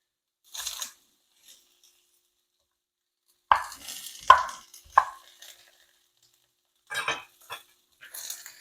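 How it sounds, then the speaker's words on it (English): Food being chopped with a sharp knife on an assisted cutting board while preparing Cuban-style picadillo, with a brief cut first, then a cluster of crisp chops and a few more after pauses, close and moderately loud. "Make sure you have a sharp knife. Having a sharp knife is key to cutting."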